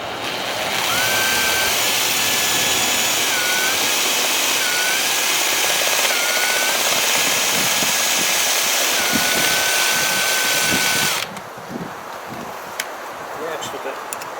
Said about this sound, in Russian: Ну и так, сверлимся.